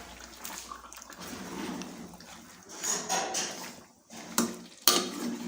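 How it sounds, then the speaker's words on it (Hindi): Fish curry ingredients stirred gently in a pot, with soft scraping and clinks of a spoon against metal, a wet sloshing texture underneath and a couple of sharper knocks near the end. "अभी मिक्स करेंगे आराम से इनको एक बार।"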